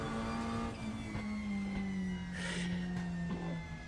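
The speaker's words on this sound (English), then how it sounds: "This 2020 Cupra petrol touring car feels more dynamic, feels more exciting, it feels quicker" A 2020 Cupra petrol touring car engine in the RaceRoom racing game drones at a steady, high-pitched whine, continuous and fairly loud, with tonal shifts as revs change.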